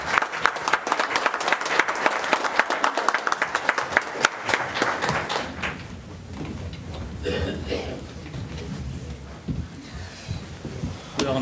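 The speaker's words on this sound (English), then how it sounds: "Let's give this deputy a round of applause," Applause from people at a county commissioners' public meeting, clapping dense for about five seconds and then fading into murmured talk and chuckles.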